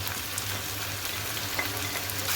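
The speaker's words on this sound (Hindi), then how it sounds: "तकरीबन 3 से 4 मिनट के लिए भून लूँगी मसाले के साथ" Potatoes frying in a pan with salt, red chili flakes, red chili powder and turmeric give a steady, even sizzle throughout, with no talking.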